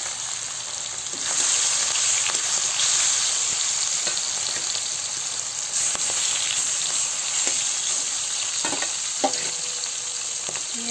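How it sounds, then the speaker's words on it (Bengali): Pieces of boal (wallago) fish frying in hot oil in a pan give a loud, steady crackling sizzle with bursts of spattering throughout, no voices. "এখন আমি এই যে মাছ করে ভেজে নেব"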